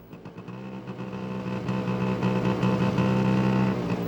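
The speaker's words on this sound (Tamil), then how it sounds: "அதோ ஸ்கூட்டர் சத்தம் கேக்குறதே" A scooter engine draws closer, its hum starting softer and growing louder and steadier as it nears, with no talk over it.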